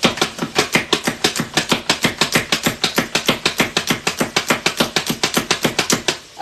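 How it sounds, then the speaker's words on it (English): Onions chopped with a hand-pounded plunger food chopper in a home kitchen: rapid, evenly spaced sharp clacks, about six per second, loud and close, steady throughout with no talk. "So just put it over your onions, or whatever you're cutting, and just pound away."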